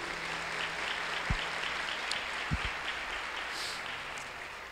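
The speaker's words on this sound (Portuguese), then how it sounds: "Você pode aplaudir a Jesus aí?" A church congregation claps during a service, a soft, steady wash of applause with a few louder claps standing out, heard at a distance.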